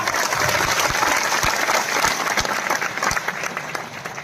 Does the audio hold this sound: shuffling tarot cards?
no